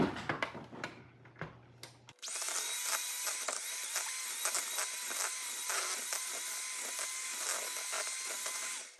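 An electric mixer beating cake batter on high speed starts after a few clattering kitchen sounds, then keeps up a steady, loud, buzzing whir with faint rattles for the rest of the clip.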